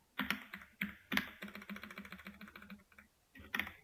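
Rapid typing on a computer keyboard during a Java programming class, with steady close-up key clatter in bursts, a brief pause near the end, then more keystrokes.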